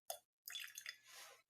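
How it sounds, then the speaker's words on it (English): A small measure of water, about two millilitres, trickles from a container into a glass of Wolfburn 10-year-old small-batch whisky: a brief drip, a short pause, then a quiet splashing pour that fades out. "So I'm going to add 2 mils of water to this one."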